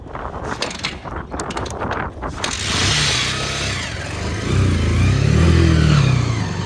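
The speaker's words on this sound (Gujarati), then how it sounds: "તો હું બાઇક ચાલુ કરું ત્યાં સુધી" A motorbike engine cranks into life by the banks of the flooded Banas river and revs up, its rising mid-range drone swelling loud and close over wind and rushing outdoor noise.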